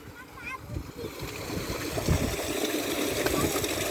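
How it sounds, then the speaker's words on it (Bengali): A child splashing and stirring water outdoors at a village home, with irregular splashes and trickling growing busier and louder, while voices talk over it. "জল ঘাটিস না, ঠান্ডা লেগে যাবে।"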